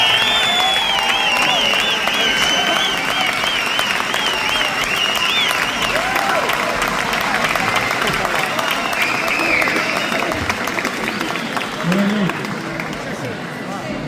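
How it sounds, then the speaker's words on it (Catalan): A concert crowd applauds loudly and continuously, with cheering and excited voices mixed into the dense clapping, easing slightly near the end. "Endavant, un aplaudiment. Més fort."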